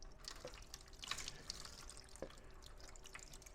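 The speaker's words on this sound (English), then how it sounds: "Now I'll just basically rinse them off with a bit of clean water." Clean water trickles and drips faintly over motorcycle brake calipers on a Kawasaki ZX10R superbike, with scattered soft splashes and droplets against a quiet background.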